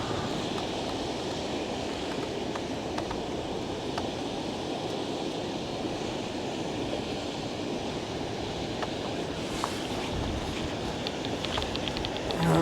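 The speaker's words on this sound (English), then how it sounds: "It is windy now." Gusty wind rushes across an open outdoor spot, a steady broad hiss with soft buffeting at the microphone, growing rougher near the end, with no voices.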